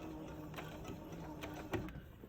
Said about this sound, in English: So my needle is going right in where the ditch of the seam is.